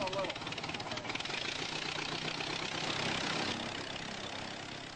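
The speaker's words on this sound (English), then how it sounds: "a Ford Model T engine is being fired up for the first time on a brand new Pete and pole project" A Ford Model T engine, fired up for the first time on a new Pietenpol aircraft project, runs with a steady, rough, knocking idle. A narrator's voice talks over it.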